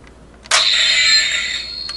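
A Legacy Power Morpher toy, Green Ranger / White Ranger Edition, being opened: a sudden loud electronic tone begins halfway in and sustains steadily to the end, with no talking.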